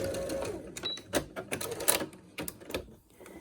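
Sewing machine stitching a fabric face mask, quick irregular bursts of clattering stitches with brief pauses, close and fairly quiet.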